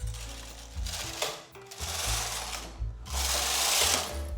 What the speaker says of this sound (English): I will just knit 2 rows on all needles.